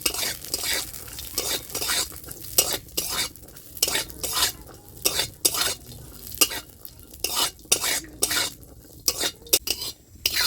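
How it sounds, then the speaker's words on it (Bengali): Cashews and raisins fry in hot ghee in a kadai for bottle gourd payesh, with a steady soft sizzle punctuated by rhythmic scraping and clinking strokes of a metal spatula, close up and without speech. "কাজু আর কিশমিশটা হালকা করে ভেজে নেব।"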